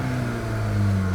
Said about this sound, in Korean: 한번 페달을 밟아 보면